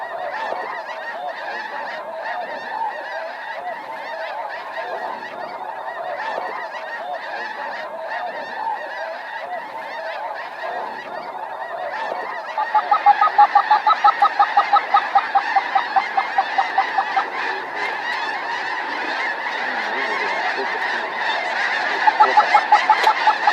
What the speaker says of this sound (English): We still got geese coming.